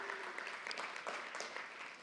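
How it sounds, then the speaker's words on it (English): A seated audience gives a round of applause at a talk, a soft, even patter of many hands clapping continuously at moderate distance, with no speech over it. "Give him a round of applause."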